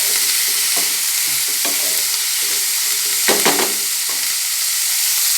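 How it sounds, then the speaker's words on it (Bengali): Soft vegetables frying in a pan give a steady, bright hiss, broken by a few scraping stirs and a brief cluster of clatter near the end. The sound is close and continuous, with no talking. "এদিকে সবজিগুলো ভাজা হচ্ছে"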